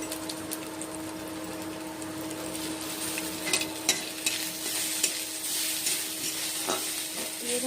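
Onions fry in a pan while ginger-garlic paste is stirred in for a yellow cabbage curry, a steady low sizzle with faint scraping and occasional clicks of a spoon, heard alone.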